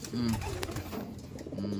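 Racing pigeons resting after a derby race coo softly in low, rolling calls, close by, with a voice speaking faintly at times.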